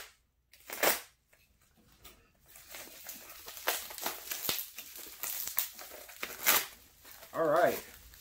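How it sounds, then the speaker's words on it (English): A paper mail envelope is torn open in several short rips and crinkles, close to the mic, with a person talking in between. "we've got another envelope here."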